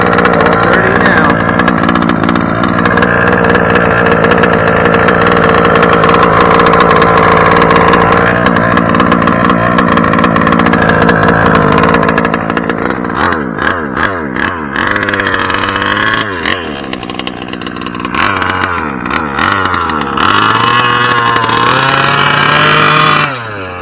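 Losi 5ive-B RC car with a 30.5cc gas engine running, a loud buzzing two-stroke drone held steady at high revs, then dropping and wavering through throttle changes near the listener.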